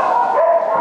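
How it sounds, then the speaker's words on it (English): A two-year-old Chihuahua gives a short, high-pitched yip or bark, close and fairly loud, lasting under a second with no talk over it. "you hear that doggy barking, don't you?"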